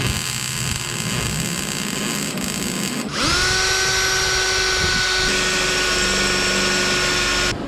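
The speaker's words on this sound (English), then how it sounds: "Got to drill the front." A power drill bores into a steel seat bracket for a 1997 Jeep Wrangler TJ, a steady high whine that jumps to a louder, sustained pitch partway through and runs close and continuous with no talk.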